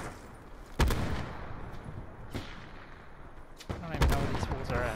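Gunfire in Call of Duty: Black Ops 4, with two sharp, loud shots about three seconds apart, a fainter crack between them and a burst of rapid fire near the end, over a steady game background rumble.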